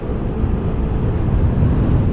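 A 2021 Piaggio Liberty S 125 scooter runs at full throttle, giving a steady low engine drone mixed with wind rush that grows slightly louder over the short stretch.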